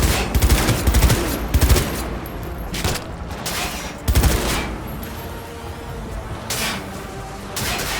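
Dense gunfire in the Cyberpunk 2077 final mission, loud rapid bursts of automatic shots repeating throughout, with brief pauses between volleys and a constant noisy battle backdrop.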